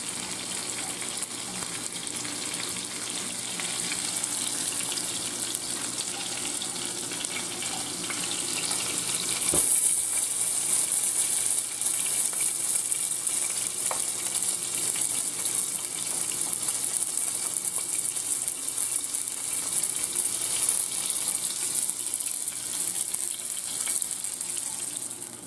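Rabbit pieces browning in hot olive oil in a pan give a steady, close hiss of frying that holds evenly throughout, brightening slightly about a third of the way in, with no voices.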